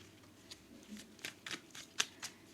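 Tarot deck being shuffled and cards pulled, with soft, close riffles and flicks in a quiet, irregular rhythm and a sharper snap near the end, with no talking.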